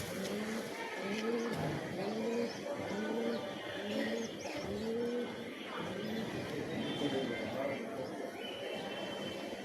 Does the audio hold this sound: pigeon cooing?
yes